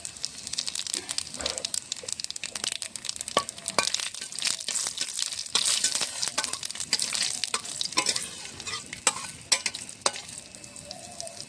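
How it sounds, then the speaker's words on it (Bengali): Dry red chillies, black cumin and cumin seeds crackle and sizzle in hot oil for a fish curry tempering, a steady bright frying hiss with sharp pops and spatters throughout, close and continuous with no talk. "তরকারিতে আমি ফোড়ন দেবো শুকনো লঙ্কা, কালো জিরে, সাদা জিরে একসঙ্গে ফোড়ন দেবো"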